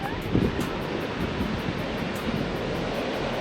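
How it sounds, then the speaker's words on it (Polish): Large ocean waves on a black sand beach in Iceland, a broad continuous roar of surf mixed with wind buffeting the microphone, steady and moderately loud. "Ale te fale są ogromne."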